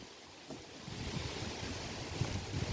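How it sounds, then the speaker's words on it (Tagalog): Wind blowing through an outdoor garden in Berlin, a steady faint rushing gust with soft buffeting against the microphone and no voices. "Mahangin lang ngayon guys."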